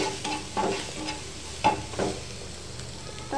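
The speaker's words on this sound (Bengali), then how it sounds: "তেলের মধ্যে পেস্টটা দিয়ে দিলাম। পেস্টটা হালকা করে ভেজে নিব" Spice paste for aloo vorta fries in hot oil with a steady close sizzle, punctuated by several scraping stirs of a spatula against the pan.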